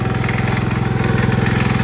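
A John Deere 112H lawn tractor, after sitting for years, runs with a steady, rapid engine putter, loud and close, its even firing pulses unbroken throughout.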